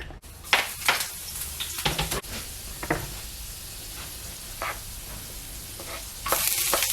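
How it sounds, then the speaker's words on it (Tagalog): Garlic and ginger fry in a little oil, giving a continuous close sizzle with scattered stirring clatter and utensil knocks against the pan, louder at the end, with no talk. "Yung garlic muna, nilagay natin. Tapos yung ginger."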